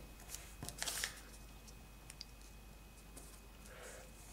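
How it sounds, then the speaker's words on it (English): Origami paper is folded by hand into a hexagon, giving soft, close crinkles and a few light creasing taps, mostly in one brief flurry near the start before going quiet, with no voices. "I'm only folding one layer to get better precision, and then turning the model around to fold the other side."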